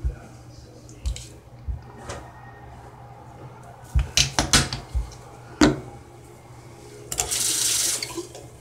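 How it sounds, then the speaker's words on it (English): A bathroom tap is turned on while teeth are brushed, with water bursts and clicks, then a louder steady stream of running water near the end, under a quiet hum. "you could probably see like where I turn on the water and stuff"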